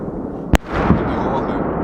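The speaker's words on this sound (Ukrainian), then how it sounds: "Вибухи лунають." Artillery fire during an artillery duel between battalions in a forest near the front line, a single sharp nearby boom followed by a duller distant thud under a continuous outdoor rumble.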